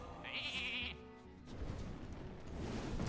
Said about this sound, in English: That is a pretty big sheep.